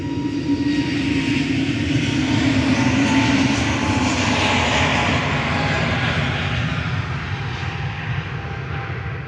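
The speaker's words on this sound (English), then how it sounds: "EasyJet departing." EasyJet airliner departing Manchester Airport, its jet engines giving a loud, steady roar that holds throughout with no talking.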